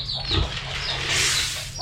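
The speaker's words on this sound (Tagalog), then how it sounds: "update tayo sa mga alaga nating baboy" Pigs raised on a Philippine farm grunt and squeal from close by, producing a dense, continuous stretch of oinking with no speech.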